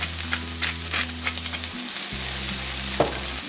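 Onions seasoned with salt and pepper fry in a pan for mushroom burgers, giving a continuous close sizzle with light crackles and spatters and a low hum underneath.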